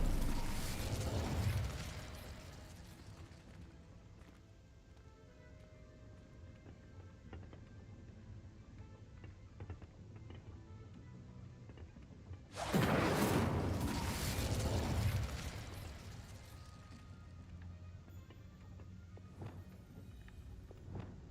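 An Incendio fire spell in Hogwarts Legacy: two loud fiery whooshing bursts, one at the start and a longer roar mid-way, over quiet game ambience with faint clicks and footsteps.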